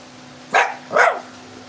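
Two loud, sharp barks from a dog named Teddy on a big back porch ring out close by, about half a second apart, with quiet between them.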